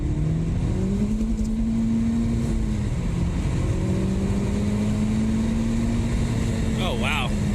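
Honda Civic Type R in R mode pulling away, with a steady engine drone that climbs and holds at moderate loudness under road noise and a brief higher whine near the end.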